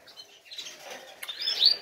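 Caged birds, eight to ten to a metre-long cage, give off thin high chirps and tweets that grow busier and louder toward the end, with no talking.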